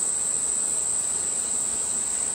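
Steady, dense buzzing of many honeybees close by at an opened hive infected with American foulbrood, a continuous hum with no pauses.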